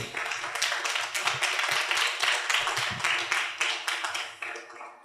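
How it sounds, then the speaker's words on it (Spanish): Rhythmic, fairly quiet clapping rises from an audience at a medical conference on emerging migraine therapies, honouring a doctor. The claps arrive in distinct pulsing bursts that taper off at the end. "Un aplauso, por favor, para el doctor."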